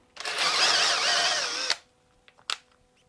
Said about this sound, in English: I'm just clearing out these mortises with a drill bit.